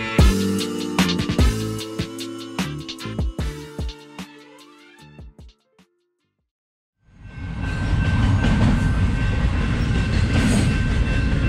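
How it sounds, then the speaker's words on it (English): Loud, rhythmic clatter and metallic squeal of a train passing close by, fading to silence before a steady roar of wind or traffic takes over. "That train was very loud."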